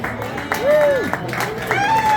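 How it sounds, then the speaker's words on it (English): Comedy club audience applauding for Monty, a burst of clapping and cheers mixed with voices and a whistle-like tone, moderately loud. "give it up for Monty one more time, y'all"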